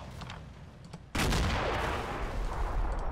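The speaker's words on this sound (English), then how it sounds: "That looks like kind of stray rifle fire." Rifle fire in a war video game comes in a sudden loud burst of shots that settles into a dense, sustained rumble of gunfire continuing to the end.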